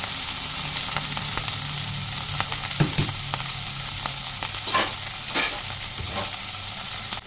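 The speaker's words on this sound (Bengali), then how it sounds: "এবারে কড়াইয়ে তেল গরম হয়ে গেছে, আমি বাঁধাকপির পাতা আর দুটো কাঁচা লঙ্কা দিয়ে দিলাম।" Cabbage leaves and two green chillies frying in hot oil in a wok give a steady, close, loud sizzle, with occasional stirring clicks and scrapes and no talking.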